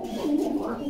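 A pigeon at a bird market gives a short, soft, low coo, close by and lasting under a second.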